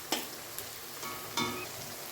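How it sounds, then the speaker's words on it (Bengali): Onions and spices sizzle steadily in a hot pan while mutton curry is being made, with a few sharp scraping stirs cutting through the constant close frying hiss. "আমার এই যে মশলাটা সুন্দর করে পেঁয়াজটা ভাজা হয়ে গেছে লাল লাল করে"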